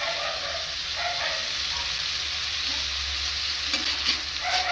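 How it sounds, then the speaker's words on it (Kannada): Chopped onions and coriander leaves frying in a pan for North Karnataka jhunka, a steady broad sizzle with occasional soft stirring strokes, no talking. "ಕಟ್ ಮಾಡ್ಕೊಂಡು ಇಟ್ಕೊಂಡಿರುವಂಥ ಒಂದು ಮೂರು ಈರುಳ್ಳಿ ಹಾಕೋಬೇಕು ಚೆನ್ನಾಗಿ ಫ್ರೈ ಮಾಡ್ಕೋಬೇಕು"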